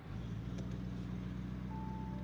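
A Lamborghini Urus Mansory Venatus with a decat exhaust in Corsa mode gives a deep, steady engine drone that holds even throughout, heard somewhat faintly, with a thin tone appearing near the end.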